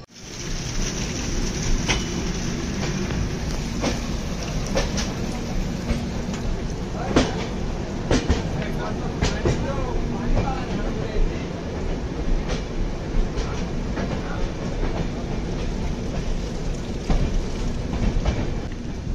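A train on the line to Goa rumbles steadily through heavy rain, with a continuous dense roar of wheels and downpour, occasional sharp clanks, and no pause throughout.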